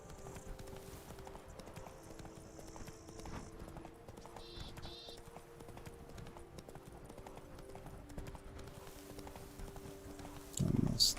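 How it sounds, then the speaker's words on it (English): Hooves of the horse Roach clip-clopping in The Witcher 3: Blood and Wine, a faint, steady gait under quiet game ambience, ending with a louder rustling burst. "That's it, Roach. One very nice roach."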